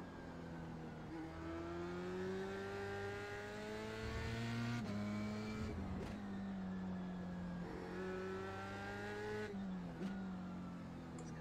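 A Dallara F3 race car engine in a racing simulator at Barcelona howls loudly and close, rising through the revs, dropping sharply on each upshift and climbing again in repeated cycles, with no talking.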